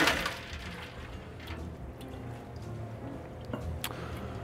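Ice and chilling water tipped out of a martini glass: a clatter of ice cubes at the start, then scattered faint clinks and small glassy taps over a low, quiet background, with no talking.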